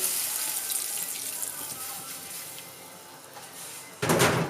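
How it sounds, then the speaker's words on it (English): Water trickles and pours steadily at a low level, ending with a brief louder splash or clatter. "I'm going to add some water from the kettle."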